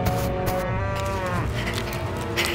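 Giant cow in a farm-animal toy diorama scene, a single drawn-out low moo that bends in pitch, close and clear over faint background noise.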